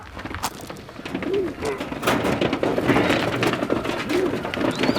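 Several racing pigeons coo softly and repeatedly nearby, their low rolling calls overlapping amid rustling and faint background noise.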